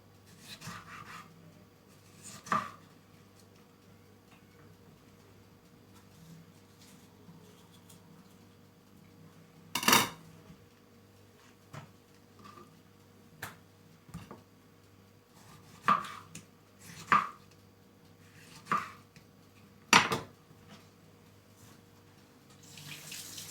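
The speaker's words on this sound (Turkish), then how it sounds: "Domatesimizi de şöyle halka halka yapıyoruz." Sharp knife taps on a cutting board, irregular and spaced out, as tomatoes are sliced into rings, over a faint steady hum.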